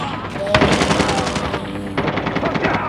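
Rapid automatic gunfire from Call of Duty Mobile gameplay rattles in dense, loud bursts, with a brief pause near the middle before another volley resumes.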